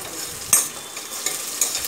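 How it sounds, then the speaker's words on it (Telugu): Large onions, added to urad dal, fry in oil over a medium flame. A soft sizzle runs throughout, broken by three brief stirring scrapes. "మీడియం ఫ్లేమ్లోనే ఈ ఉల్లిపాయలని వేయించుకోవాలి."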